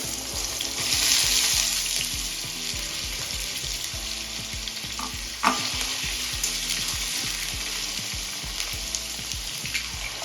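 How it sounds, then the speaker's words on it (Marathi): Raw potatoes with green chillies frying in oil in a pan for sabudana khichdi, a close, steady sizzle with occasional stirring scrapes and a brief clatter midway, no talking. "आता इथे आपली हिरवी मिरची छान फ्राय झाली आता या स्टेजला आपण बटाटे ऍड करून घेऊया"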